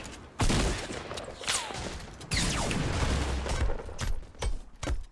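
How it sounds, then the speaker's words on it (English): Gunfire in the video game Fortnite, bursts of rapid shots, booms and crashes in quick succession, loud and close, with a brief gap between volleys. "He's shooting through the ground!"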